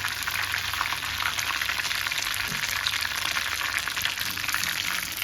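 Chicken pieces for chilli chicken deep-frying in hot oil over a high flame, a steady close, even sizzle and bubbling crackle running throughout with no talk.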